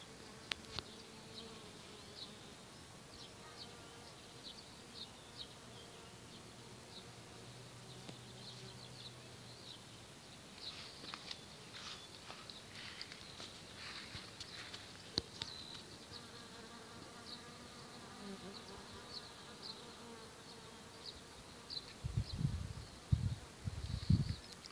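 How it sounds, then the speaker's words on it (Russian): Bees swarm around a flowering staghorn sumac tree at seven in the morning in mid-June, a steady, dense drone of many insects buzzing nearby, with individual bees passing close to the listener and occasional rustling near the end. "подходишь к нему, а тут аж жужжит, пчел немерено"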